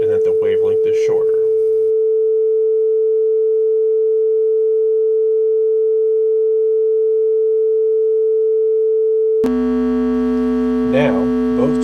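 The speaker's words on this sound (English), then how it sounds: "This is a 440 hertz tone." A steady pure 440 hertz sine tone holds alone for several seconds after brief talk, then a second lower tone joins while a voice speaks over it.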